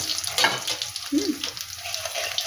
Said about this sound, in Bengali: তেল গরম হয়ে গেছে, এই লঙ্কা দিলাম, একটু জিরে দিলাম